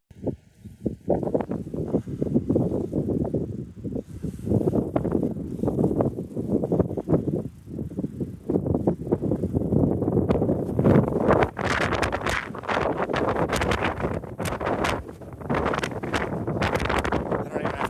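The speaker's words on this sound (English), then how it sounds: "it's so windy" Gusty wind rumbling and buffeting against a microphone while bicycling across Iowa, rising and falling throughout, with occasional faint voices mixed in.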